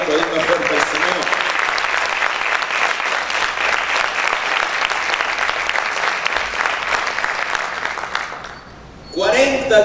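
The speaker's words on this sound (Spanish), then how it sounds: "¿Cuántos pueden aplaudir más fuerte al Señor?" Loud, dense applause fills a church service, with the congregation clapping steadily for about eight seconds before it stops abruptly. A voice then speaks.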